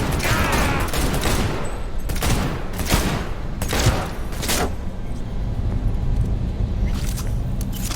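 Gunfire in the video game Cyberpunk 2077 comes as a fusillade of loud, close, sharp bursts in rapid clusters over a rumbling game soundscape, then eases into steadier background noise.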